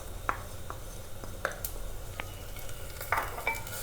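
Ginger garlic paste fries softly in a clay pot as a utensil stirs it, with a faint sizzle under a handful of sharp, close scraping clicks.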